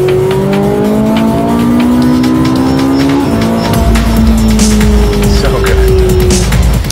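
A Ferrari 458 Italia screams around a racetrack, its engine climbing through gears with sharp shifts, loud and close, followed by rough road noise and tire roar as it passes.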